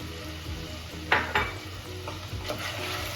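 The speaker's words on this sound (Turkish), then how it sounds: "Bu aşamada soğanını ekliyorum arkadaşlar." Beef and onions frying for Uzbek pilaf, a steady sizzle in hot oil broken by a few sharp stirring scrapes of a utensil against the pot, close and moderately loud.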